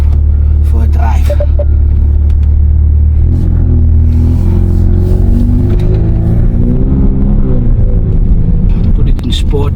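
Volkswagen Golf 8R pulling away, a steady low engine rumble that rises in pitch as it accelerates, loud and close from inside the car, with a little talk over it.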